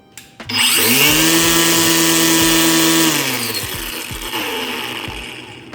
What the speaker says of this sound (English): Let's see how good this Hyper Tough trimmer sound